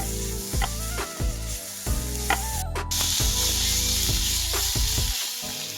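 Onions sautéing in a pan while being stirred for a stuffed squid dish, a steady close sizzle broken by repeated scraping and knocking of the spoon against the pan, with a brief louder hiss midway.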